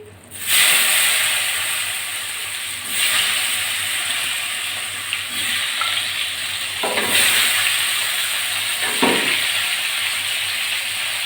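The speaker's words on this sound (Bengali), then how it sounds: "এবার ধুয়ে কেটে রাখা আলু দিয়ে দিচ্ছি" Washed, cut potatoes hit hot oil tempered with cumin, bay leaves and dried chillies, giving a steady, close sizzling hiss that swells and eases over several seconds with no talking.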